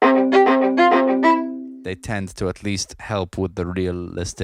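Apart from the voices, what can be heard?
None of the usual background noises is heard.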